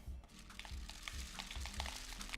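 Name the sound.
rice poured into a paper tube rain stick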